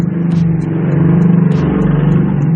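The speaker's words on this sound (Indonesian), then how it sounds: "Di sini agak berisik ya, banyak motor lewat." Steady, loud engine rumble of road traffic, mostly motorcycles, with motors droning continuously and a couple of brief revving surges as they pass close by.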